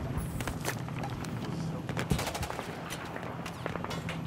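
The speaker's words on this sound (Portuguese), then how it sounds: "Eu tô tomando tiro não sei da onde." Gunfire in the Battlefield video game sounds as bursts of automatic fire and scattered shots amid a constant background din of battle, with one sharper blast near the middle.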